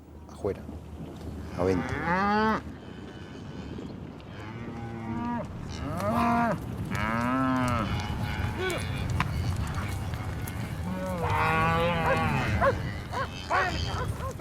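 Cattle bawling in a corral during branding at a roundup: loud, near, repeated moos that overlap one another over a steady background of shuffling and herd noise.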